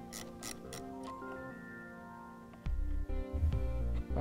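A wrench, likely a ratchet, turns the nut on the positive battery terminal of a 2011 Buick LaCrosse during a trailer wiring install. Soft ticking mechanical clicks are followed by a louder low rumble and clunks toward the end.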